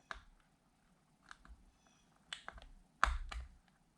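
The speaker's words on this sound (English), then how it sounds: "Once you get your wheel on, you can go ahead and put your little C-clip back on" A small C-clip snapping onto the wheel of a Polaris 380 inground pool cleaner, a few sharp plastic clicks scattered across a quiet stretch, close and distinct, with the last click loudest.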